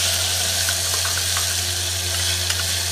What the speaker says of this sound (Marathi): आता आपल्याला खोबरं वाटून घेतलेलं टाकायचं आहे.